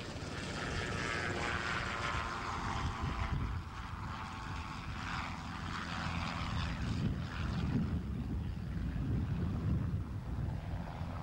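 Robinson helicopter flying past at a 1994 agricultural aviation air display, its engine and rotor making a steady, fairly loud drone with microphone wind noise throughout and no voices.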